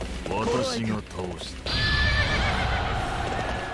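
A horse in the Warriors Orochi 3 video game whinnies loudly, then its hooves pound in a fast, close gallop under game effects, with someone talking over the start.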